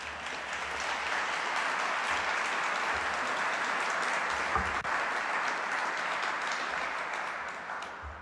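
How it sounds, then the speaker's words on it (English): Sustained audience applause fills an award ceremony hall, a steady dense wash of clapping that holds for several seconds before tapering slightly at the end. "Let's give him another round of applause."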